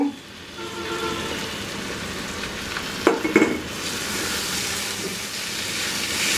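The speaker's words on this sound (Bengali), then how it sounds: "পেঁয়াজটা এখন কাঁকরোলগুলা দিয়ে এর সাথে মিশায় মিনিট দুই তিন ভেজে নিব" Chopped teasel gourd (kakrol) and onion frying in a pan, a steady low sizzle with a few scraping stirs of a spatula near the middle, close and fairly quiet.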